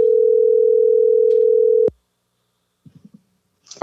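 A steady telephone line tone during a call holds loud and unbroken for nearly two seconds, then cuts off abruptly, followed by a few faint, brief rustling taps.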